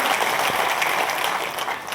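A crowd at a journalists' association event in Bhopal applauds to welcome a minister, an even spread of clapping from many hands that holds steady and tapers slightly toward the end.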